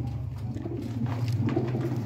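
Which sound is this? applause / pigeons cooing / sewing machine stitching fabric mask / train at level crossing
pigeons cooing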